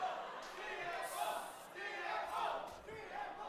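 Crowd at an esports watch party for a League of Legends LCP 2025 mid-season lower final between TLN and GAM, chanting and shouting together in swelling waves that rise and fall over a few seconds.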